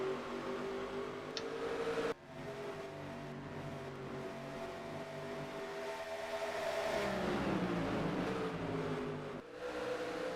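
Race trucks lapping the Phoenix race track, engines droning steadily with pitch sweeps as trucks pass, the roar swelling louder in the latter half before easing off.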